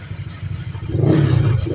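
A Honda Click 125 scooter engine fitted with a new chrome bore idles steadily nearby, a low even hum that grows a little fuller partway through, with no knocking.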